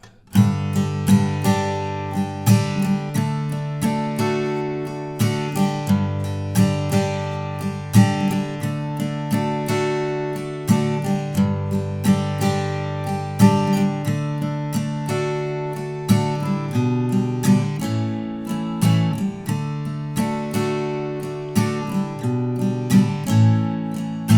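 An unaccompanied guitar plays the bridge chord progression of a song with steady strummed accents, moderately loud and without any voices.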